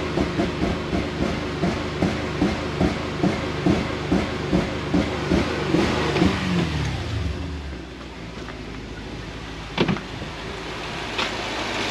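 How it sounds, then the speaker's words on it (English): A Toyota 1UZ/3UZ V8 with airflow meter and oxygen sensor faults, unable to rev past about 3000 rpm, pulses in a steady throbbing rhythm, then its revs drop and it falls back to a quieter idle. "And it won't rev over 3 grand."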